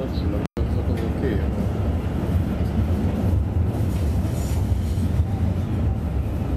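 De Lijn tram 6023 rolls past on its rails, a continuous low rumble with faint wheel-on-rail rattle, fairly close and steady throughout while people chat in German nearby.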